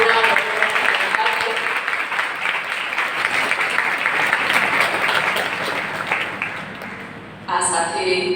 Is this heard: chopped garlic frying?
no